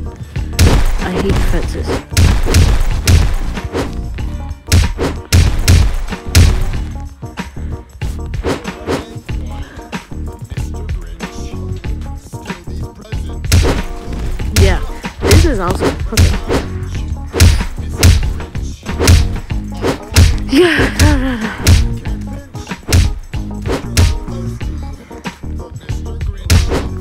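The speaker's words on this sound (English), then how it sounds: "Now we're gonna manually destroy a house with my bare hands." Repeated heavy thumps and smashing hits as a house is torn apart by hand in Roblox, arriving in dense irregular bursts under frequent excited talk from a player.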